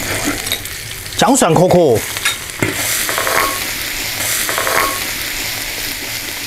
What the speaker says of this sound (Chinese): 锅留底油，下入花椒、干辣椒